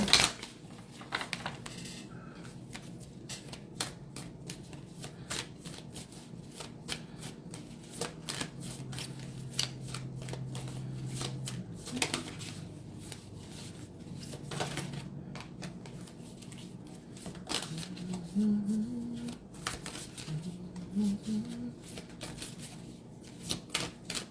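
Work Your Light oracle cards are shuffled by hand, making quiet, rapid riffling and clicking bursts in an irregular rhythm with no talking over them.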